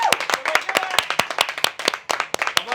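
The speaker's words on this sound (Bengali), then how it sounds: "হাততালি হাততালি হাততালি।" Rhythmic hand claps during a cardio workout session, a steady series of sharp, close slaps repeating about every quarter second, with faint voices in the background.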